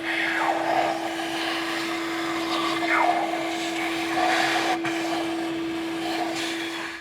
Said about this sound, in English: continue on with a vacuum cleaner if you have one available.